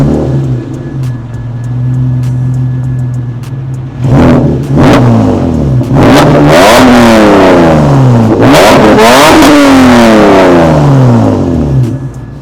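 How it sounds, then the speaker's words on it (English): Lotus Evora V6 fitted with a titanium Top Speed Pro 1 exhaust starts up and settles into a steady idle, then gives several loud, sweeping rev blips that rise and fall, close and with no talk. "Let's get a little bit of a startup and rev action for you guys so you can hear what this titanium Top Speed Pro"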